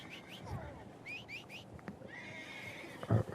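A horse in Red Dead Online whinnies in a few rising, shrill calls over soft hoof clip-clops and ambient game noise, followed by a short thump near the end, mid-distance and moderately loud.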